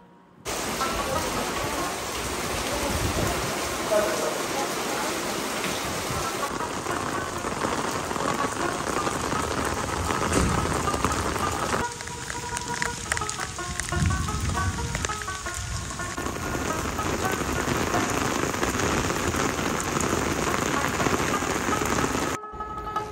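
Heavy rain pours steadily onto surfaces close by, a loud, unbroken hiss with scattered drop impacts that continues throughout without any speech.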